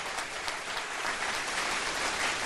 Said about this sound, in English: give all of the candidates a round of applause